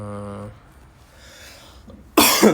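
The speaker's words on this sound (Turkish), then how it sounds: "O yüzden öksürüyorum ve sesim pek şey değil" A person with a bad cold coughs once, loud and close, near the end after a quieter stretch with a brief tonal sound at the start.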